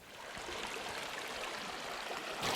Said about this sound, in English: Pretty remarkable sight to see water flowing right on the edge of the Kalahari Desert, and it flows all year long